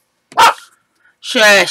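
Dogs bark indoors in two sharp, loud bursts separated by a short pause, with a brief spoken word between them.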